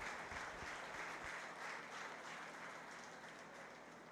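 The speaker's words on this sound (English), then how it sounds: "let's give all six of those a nice round of applause" Crowd at a county 4-H fair swine show giving a sustained round of applause, a distant wash of many hands clapping in a large barn-like space, fairly faint and steady, with a few nearer claps at the start.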